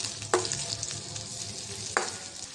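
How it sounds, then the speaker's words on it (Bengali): Chopped onions fry lightly in oil in a karai with a soft, steady sizzle, broken by two sharper scrapes or knocks from stirring. "পেঁয়াজটা হালকা ভেজে নেব।"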